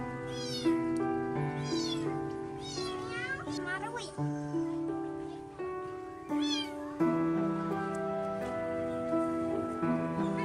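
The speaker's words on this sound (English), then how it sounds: "This little monkey couldn't stand to watch a frightened kitten calling for help." A frightened kitten meows repeatedly in plaintive, drawn-out cries, loud and close, spaced every second or two over a soft background.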